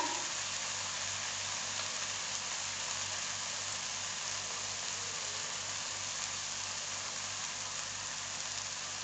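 Jackfruit sabzi sautéing in oil in a pan, Konkani style, hisses in a steady, even sizzle that stays close and constant throughout, with no talking.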